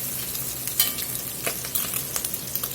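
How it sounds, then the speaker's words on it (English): Meat browns in a jambalaya pot with a low steady sizzle, broken by occasional scraping stirs and utensil knocks, no voices. "It's important to really take your time and get this meat browned off real well and get some fond on this pot."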